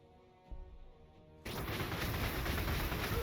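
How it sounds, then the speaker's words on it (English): Rapid bursts of gunfire erupt after a short quiet lead-in, continuing densely as sustained, loud shooting from the strategy game Warhammer 40,000: Gladius. "Why do I hear a lot of gunshots?"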